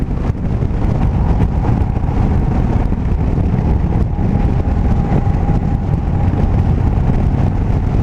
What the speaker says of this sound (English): The bike seems like it's up to temp now. It's wanting to stay running.